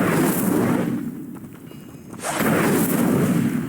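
Incendio fire spell cast in Hogwarts Legacy: a loud whooshing roar of flame that drops away briefly, then surges back up.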